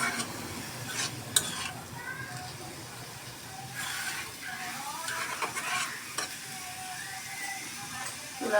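Vegetables with soy sauce stirred in a pan over raised heat, a steady sizzle with repeated spatula scrapes and stirring strokes, close and moderately loud, no talk.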